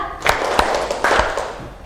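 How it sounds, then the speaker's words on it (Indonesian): Several sharp claps ring out in a loose, uneven rhythm, counted groups of claps during a teachers' training session, fairly close and loud, with a low murmur of voices underneath. "Coba tepuk satu, tepuk dua, tepuk tiga"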